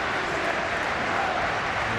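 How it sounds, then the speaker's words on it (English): A football memorial match crowd breaks into a steady, dense wash of applause and cheering that fills a large stadium, with no single voice standing out. "The spontaneous applause and songs are"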